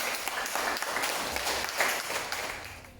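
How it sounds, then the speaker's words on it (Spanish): A church congregation claps in a sustained, even wash of applause, moderately loud and heard alone throughout. "Denle un fuerte aplauso al Señor."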